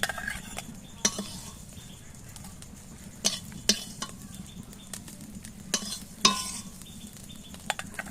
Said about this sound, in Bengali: চিংড়ি মাছের মাথা ভাজা হয়ে গেছে, আমি তুলে নিচ্ছি